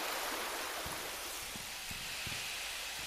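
Running water in the video game Resident Evil 2 Remake, a steady broad hiss of flowing water with faint scattered low thumps, heard alone without talk.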